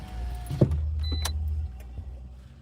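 Inside a car, a low steady engine and road rumble runs beneath a few clicks and a brief whirring of a power window, fairly quiet and close.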